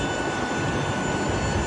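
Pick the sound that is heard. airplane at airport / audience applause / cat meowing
airplane at airport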